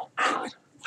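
A dog gives short barks and a whimpering yip, two quick close bursts with a pause between, no talking.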